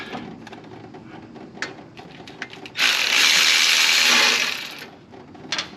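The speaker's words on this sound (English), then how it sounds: "let me get the rest of these bolts out" A ratchet working loose the transmission pan bolts on a 2006 Chevy Express 2500, with scattered clicks and clanks followed by a loud, steady whirring burst of about a second and a half, close up, then a few more clicks.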